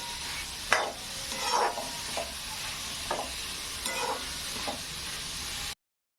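A spoon scrapes and stirs through a momo filling mixture in a bowl, with several distinct swishing strokes at an uneven rhythm over a steady soft background hiss, close and moderately quiet.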